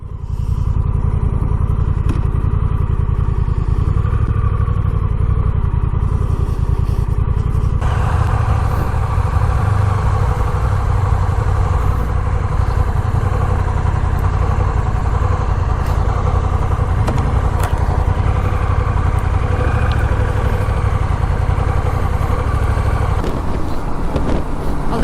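A 2021 Honda Rebel 1100 DCT motorcycle idles steadily and close by, its deep engine rumble running for about 25 seconds with a faint mechanical clatter and no talk.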